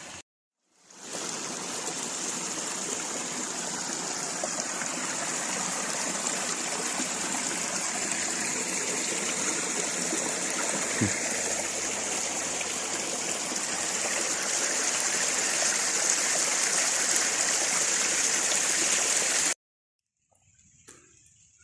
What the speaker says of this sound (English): The stream is quite nice.